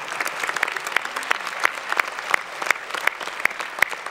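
An audience applauds at a 2024 New Year's wishes ceremony, with steady, moderately loud clapping from a crowd and a few sharper individual claps standing out at a fairly even rhythm.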